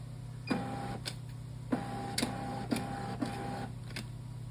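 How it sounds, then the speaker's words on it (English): An Easy Weigh LS-100 scale's label printer printing a run of labels: a steady motor whir with a series of short sharp clicks and buzzes as each label feeds out, close and alone. "your scale printer will print 4 to 5 different labels continuously"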